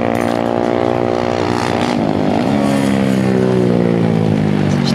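A Honda Grom motorcycle laps the Kinki Sportsland track, its small engine droning loudly and continuously, with the pitch dipping and climbing through gear changes as it passes close by.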